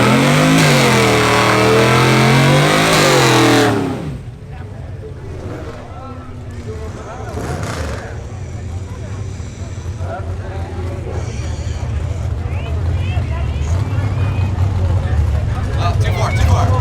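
Diesel truck at a drag race: a loud, close engine revs hard with rising and falling pitch for a few seconds, then cuts to a lower, steadier rumble with crowd noise and talk mixed in.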